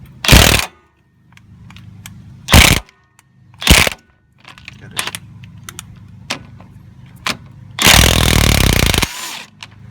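A power tool gives several short bursts and then one longer whirring run while removing bolts from the lower control arm of a G35 car, loud and close, with clattering handling noises in between.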